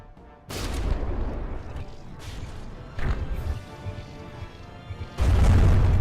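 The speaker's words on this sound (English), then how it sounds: "Oh, blocks go flying everywhere with that hit." Hits in the naval combat game From The Depths land in a series of heavy crashing impacts and booms as ship blocks break apart, with the loudest smash near the end and a few smaller thuds between.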